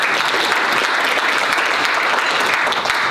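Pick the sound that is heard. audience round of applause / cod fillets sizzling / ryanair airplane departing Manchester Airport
audience round of applause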